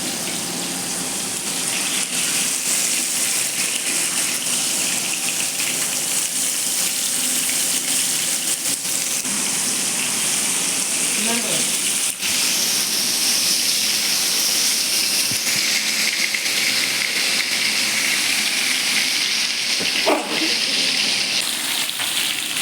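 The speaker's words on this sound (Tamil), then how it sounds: "மீன் நல்லா பொரியுது பாருங்கள்" Fish pieces frying in hot oil for a home-cooked Sunday meal, a steady loud crackling hiss filling the whole stretch, with a few brief scrapes midway and near the end as the fish is turned.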